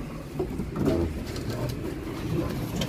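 Pigeons coo softly in low, rolling murmurs, several birds overlapping at close range against a faint background hum.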